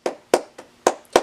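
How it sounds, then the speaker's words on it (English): One person stands alone in a basement clapping, five sharp, separate hand claps at an uneven pace, close and clear, each ringing briefly in the room. "I'm literally standing alone in the middle of my basement, just clapping in front of a camera"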